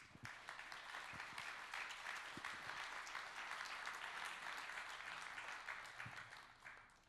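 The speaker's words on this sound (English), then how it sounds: "I'd like to ask you to join for me with applause to our great and excellent speakers" An audience at a panel on ammunition manufacturing applauds its speakers, a steady, moderately distant wash of clapping that tapers off near the end.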